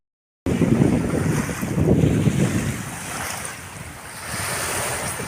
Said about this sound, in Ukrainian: море в 9 годині вечора